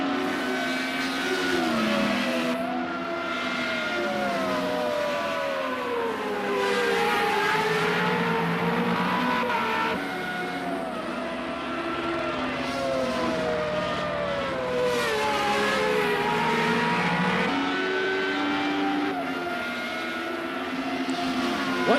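FR35 single-seater race cars at Oulton Park circuit, engines howling and shifting pitch as cars pass and accelerate down the straight, loud and continuous with overlapping engine notes.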